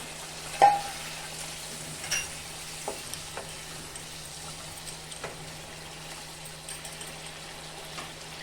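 A soft, steady sizzle and bubbling of hot water poured into frying spice paste for chicken korma runs throughout, with a few light clinks near the start.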